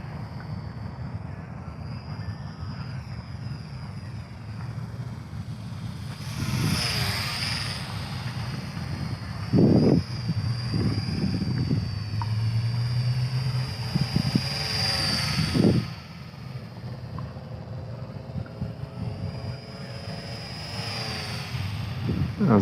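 XK WLToys Rearbear F8F Fighter micro RC plane flying outdoors in wind, a thin high motor whine swelling and fading as it passes, under gusty wind noise and occasional talk.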